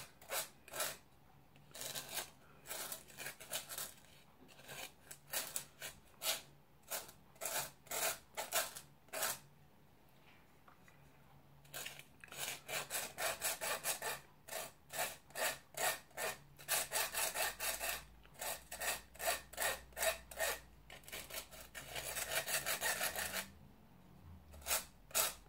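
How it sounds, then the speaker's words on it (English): Sugar is scraped and rubbed through a sieve for red velvet cupcakes, making a steady run of short rhythmic raspy strokes in bursts with brief pauses, close up and fairly quiet. "If you notice some of the lumps in the sugar as well, don't forget to scrape that in a sieve."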